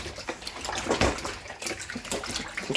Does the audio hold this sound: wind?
no